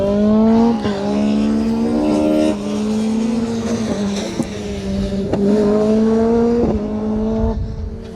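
Rally cars race flat out on the first stage of the Colin Ellmore Memorial Rally 2025, engines roaring loud and close with rising and falling revs across several gear changes, a near car sweeping by at full throttle.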